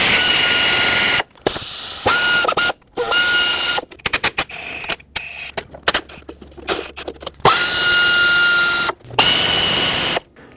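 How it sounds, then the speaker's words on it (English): A power tool, likely an electric ratchet, spins an 8mm socket to remove the valve cover bolts on a 2011-2016 Ford F-350 with the 6.2L V8, giving repeated short whirring bursts separated by pauses and small clicks. "now use an 8mm socket. Remove all the bolts that go around this entire valve cover so we can pull it off."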